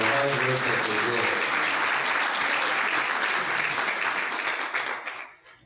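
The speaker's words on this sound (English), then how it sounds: "Please give them a round of applause" Audience at a business breakfast event bursts into sustained, dense applause that holds steady and then fades out quickly near the end.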